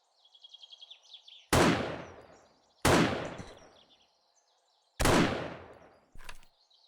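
Tactical rifle gunfire in the video game 7 Days to Die, three loud, sharp single shots with decaying tails plus a shorter fourth burst, spaced unevenly, after a faint chirping sound at the start.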